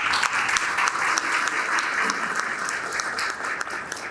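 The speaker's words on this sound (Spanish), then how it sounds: "O sea que un aplauso por ello" An audience at a panel on Pedro Henríquez Ureña applauds steadily, a full, continuous wash of many hands clapping, close and loud throughout.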